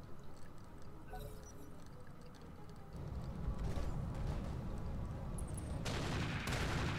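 Bursts of gunfire in the video game Roguepoint crackle at a distance over steady background noise, growing denser and louder in the second half.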